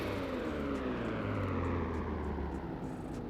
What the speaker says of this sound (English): But if you turn on your car and rev it,